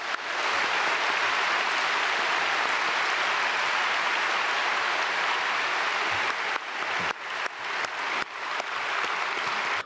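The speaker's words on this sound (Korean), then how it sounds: "우리 목사님께 감사의 마음을 담아서 박수하겠습니다." A large church congregation at a Sunday worship service applauds the pastor in a dense, even roar of clapping that holds steady for nearly ten seconds, broken by a few brief dips near the end.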